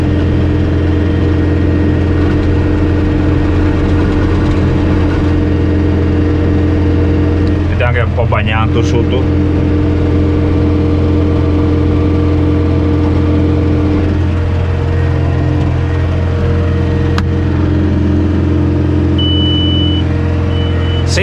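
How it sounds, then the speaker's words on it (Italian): Tractor engine idling in an asparagus field, a loud steady low drone held for the whole stretch, with someone speaking briefly over it. "Adesso dovrò girare il trattore, fare l'altra parte."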